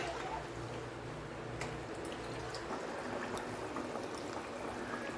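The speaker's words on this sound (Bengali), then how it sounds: "দেখো বন্ধুরা, মাছের ঝোলটা ফুটে গেছে।" Thin Bengali fish curry (patla macher jhol) simmers in a pan with a continuous soft bubbling and gurgling, low in level, joined by a few faint clicks and a low background hum.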